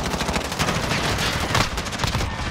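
Loud, continuous automatic gunfire in a Search and Destroy shooter match, rounds fired through a wall in a rapid, dense burst that fills the whole moment with no talking.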